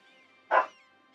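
A dog gives a single short, sharp bark, close and clear against a quiet background.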